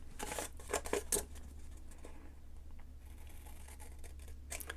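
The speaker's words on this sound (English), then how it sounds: "I'm just going to cut just to where that point is" Scissors snipping into folded paper for an eight-point paper star, a few quick close crisp cuts early on, then quieter rustling of paper against a low steady hum.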